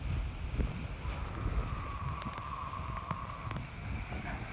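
Rain falls steadily on a construction site where work continues, a dense, soft patter with gusty wind noise against the microphone and no talk.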